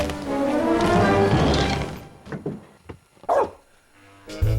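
A burst of noise gives way to a few sharp, separate dog barks at a moderate distance, spaced irregularly with quiet gaps between them.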